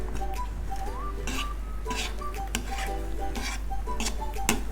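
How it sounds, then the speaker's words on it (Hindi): Spoon stirring sweet mutanjan rice with almonds and coconut in a metal pot, repeated clinks and scrapes over a steady background hum and faint music, close by. "ये कुछ मेवे, बादाम और गिड़ी है, ये हम इसी में डालेंगे। अच्छा, और इसको एक दफ़ा हिला लेंगे।"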